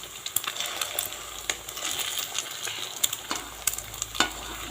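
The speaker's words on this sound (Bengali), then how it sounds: "তো আস্তে আস্তে ডিমটা ভাজা হয়ে যাবে, তারপর আলুর সঙ্গে মিশিয়ে দেব।" Egg frying alongside potatoes in a pan, a steady close sizzle broken by sharp spatula clicks and scrapes against the metal.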